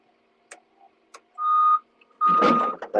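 Reversing beeps from a snowplow truck sound as two long electronic tones, the second followed by a burst of broadband noise, with faint clicks before them.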